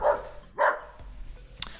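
Dog Rufus barking in two loud, close bursts, a short gap between them, followed by a few fainter yips and one sharp click near the end.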